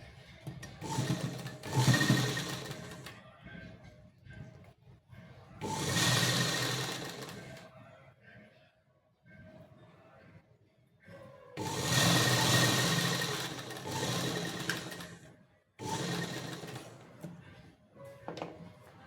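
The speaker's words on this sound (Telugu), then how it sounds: "ఈ క్లాత్ని ఇట్లా లోపలికి డబల్ ఫోల్డింగ్ వేసి ఇంకొక కుట్టు వేసుకోవాలి" A sewing machine stitches a double-folded cloth edge in loud close bursts of whirring stitching lasting a few seconds each, separated by short quiet pauses, with no talking.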